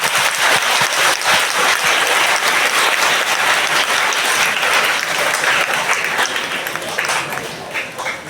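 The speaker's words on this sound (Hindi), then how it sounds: "आपके लिए तालियां दोस्तों।" Sustained, dense applause from a large audience at an Independence Day school function in Delhi, loud and steady throughout before tapering slightly at the end.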